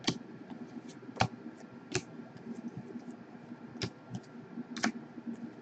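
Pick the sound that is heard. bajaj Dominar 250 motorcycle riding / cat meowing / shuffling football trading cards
shuffling football trading cards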